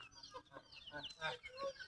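Desi hens with many chicks cluck softly and faintly in short, uneven calls, a quiet farmyard sound with slight background murmur.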